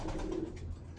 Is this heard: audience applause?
no